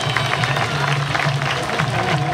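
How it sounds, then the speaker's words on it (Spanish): A crowd applauds steadily and loudly at the San Baltazar street festival in Barrio Cambá Cuá, Corrientes, producing a dense, continuous wash of clapping that holds for a couple of seconds. "Más fuerte entonces el aplauso."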